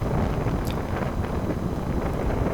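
An east wind blows over the sea, a continuous rough gusting rush buffeting the microphone for a few seconds with no voices.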